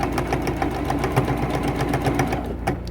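A sewing machine stitches down quilt binding on a T-shirt quilt, its needle running in a steady, fast mechanical chatter close to the mic for the whole stretch, with no talking.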